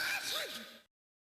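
A character sneezes in the video game Snatcher: one short, breathy burst that rises and falls in pitch, then cuts to silence.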